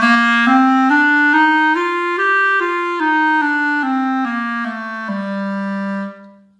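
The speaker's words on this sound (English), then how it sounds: "It's a funny little scale called A natural minor." A clarinet plays the A natural minor scale, rising step by step from low A and back down in clear, even, sustained notes that end on a long held tone, close and solo.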